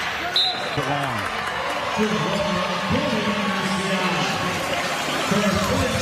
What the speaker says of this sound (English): This crowd trying to do what it can to urge this Anteater squad on.